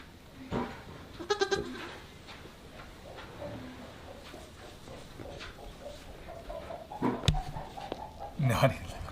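Goats on a small farm bleat in short, scattered calls over a low outdoor background, some near and some farther off, with one louder cry near the end.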